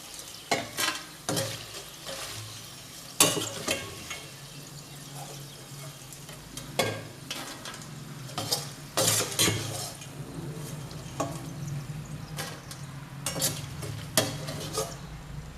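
Dried cluster beans frying in hot oil in a village kitchen, crackling sizzle with repeated loud clanks and scrapes of a ladle stirring against a metal pan, irregular bursts over a steady fry.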